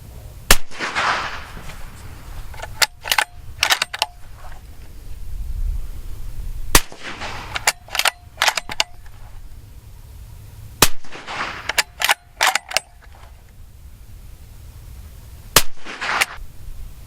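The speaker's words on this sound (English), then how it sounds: "after shooting a few suppressed rounds" Suppressed rifle shots through a YHM Resonator 30 suppressor fire in sharp clustered bursts of several quick cracks, with pauses between the groups, close and loud against quiet outdoor background.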